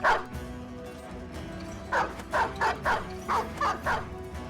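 War dogs in the Battle Brothers video game bark in a quick series of sharp yips, one at the start and then six in an even rhythm, all close and loud over a dull game background.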